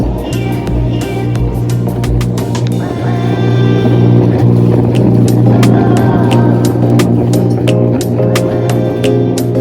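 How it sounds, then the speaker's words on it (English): A sailboat's engine starts and runs loudly and steadily at a marina, with a deep rumbling drone and repeated knocking clicks throughout. "it's time to start the engine and then check the exhaust water"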